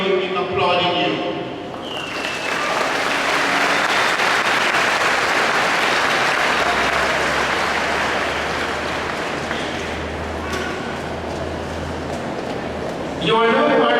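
Sustained applause from a large crowd at a graduation ceremony fills the space, steady and loud for over ten seconds before a voice resumes speaking.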